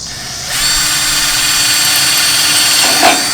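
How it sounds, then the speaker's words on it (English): Power drill boring holes into a concrete form, a loud steady whine starting after a brief quiet lead-in and holding close and constant, with a slight bump near the end. "now we'll drill a couple holes and just put them in."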